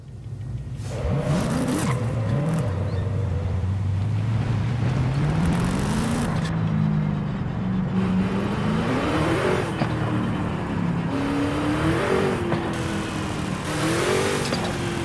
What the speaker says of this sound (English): Let's listen to this engine for the first time for you guys